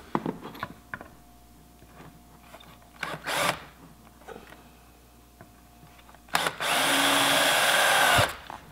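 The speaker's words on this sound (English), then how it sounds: "So I'm going to pre-drill the top holes and the bottom holes." A power drill pre-drills holes in a board for a kitchen island build, one sustained loud whir of about two seconds following scattered knocks and handling clicks.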